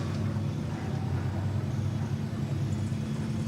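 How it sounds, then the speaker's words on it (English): Several racing cars idle and roll to a stop beneath the podium at a Winter Series round in Barcelona, a steady low engine rumble continuing at moderate distance with no talk. "Top three cars pull up underneath the podium."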